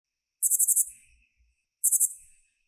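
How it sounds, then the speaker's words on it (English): Two bursts of shrill, rapid katydid chirps, each a quick pulsing trill of about five pulses, close and clear against silence. "the best way to determine if you have katydids is to listen for their chirps."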